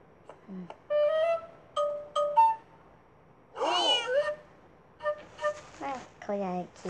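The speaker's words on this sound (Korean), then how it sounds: "고양이 귀엽다." A cat meows repeatedly in short separate calls, close and clear over a quiet background, with a longer louder cry in the middle.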